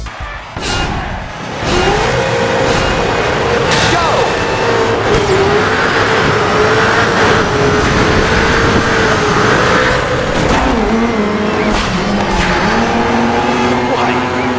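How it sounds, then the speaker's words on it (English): Race car engines in the video game Dirt Showdown roar and rev continuously, pitch rising and falling with shifts, loud and close, with a voice talking over the noise. "you'll listen to the car sounds"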